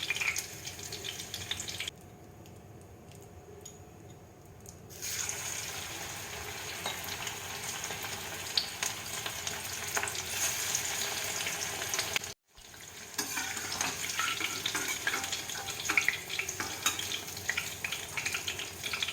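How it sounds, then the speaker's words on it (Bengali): Steady crackling sizzle of prawn pakoras deep frying in hot oil, continuous and close, with a brief quieter stretch and a short cut midway. "আমি অন্য পাকোড়াগুলোকে ভেজে নেবো"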